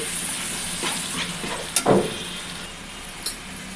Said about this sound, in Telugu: ఇప్పుడు ముందుగా రెండు వెల్లుల్లి పేస్ట్ వేగనివ్వండి